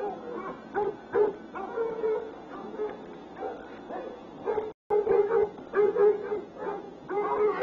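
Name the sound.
hunting dogs barking on a trail in a film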